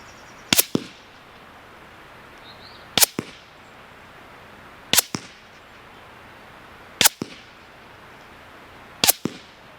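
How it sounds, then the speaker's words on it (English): Five suppressed gunshots fired through a Liberty Suppressors Goliath, evenly spaced about two seconds apart, each a sharp close crack followed by a quick echo, with quiet outdoor air between shots. "It suppresses everything that I shot through it."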